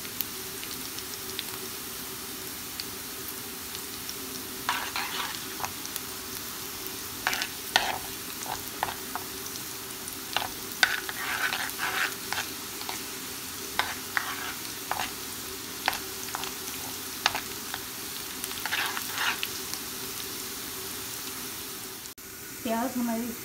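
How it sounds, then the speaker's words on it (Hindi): Garlic and onion frying in a pan for tadka dal, a steady low sizzle with intermittent stirring scrapes and clinks throughout, close and moderately loud. "इस स्टेज पर हमने डालना है लहसुन और इसको पकाना है।"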